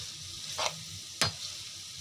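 Vegetables with a stock cube being mixed and cooked in a pan for a masala tikka roll filling, a soft steady sizzle broken by two brief scraping stirs, the second sharper, with no voices.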